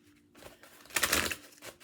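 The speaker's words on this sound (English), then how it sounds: "One more shuffle here." A deck of tarot cards is shuffled once, giving a short, close riffle of papery flutter that rises and then settles.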